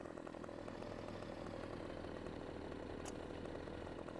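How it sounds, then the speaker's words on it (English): Tractor engine in the farming game Farming Simulator 15, a steady droning, buzzing motor that runs continuously at low level with no pauses and no talking over it. "Yeah, I hear a tractor."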